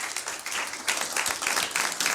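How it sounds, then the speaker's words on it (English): Audience applause after a talk by the founder of Dirty Dough: dense, steady clapping from a crowd, fairly loud and continuous for a couple of seconds. "Can we get one more round of applause, please?"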